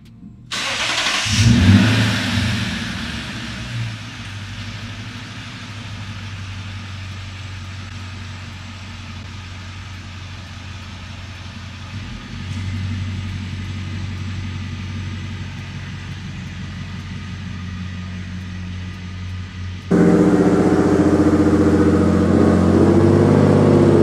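A Lexus IS F V8 with stiffened damper settings starts up with a brief loud burst, then rumbles steadily at idle or low speed, and its engine note swells noticeably louder and fuller for the last few seconds. No voices.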